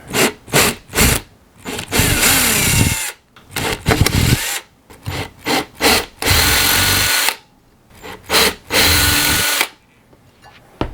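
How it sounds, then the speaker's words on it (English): A power drill widening a hole in a 1:8 scale model car grille whirs in repeated bursts, short pulses alternating with longer runs, close and loud, with no talking. "So now this is the last drill bit."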